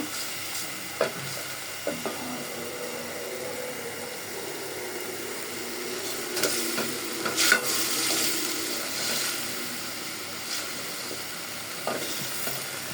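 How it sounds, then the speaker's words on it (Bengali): A piece of fish fries with spices in a pan under a continuous low sizzle, with occasional clicks and scrapes of a spatula stirring the mixture and no one speaking. "মাছ মশলা একসাথে ভালো করে কষায় তারপর আমি শাক দিয়ে দিব"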